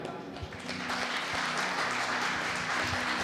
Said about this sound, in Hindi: प्रभु को धन्यवाद देते हुए ताली बजाएं